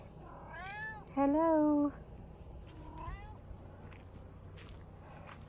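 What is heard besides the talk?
cat meowing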